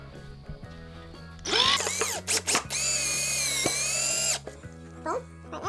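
A power drill driving a screw into wood for a serving tray whirs in a few short bursts, then runs steadily for a couple of seconds before stopping, up close.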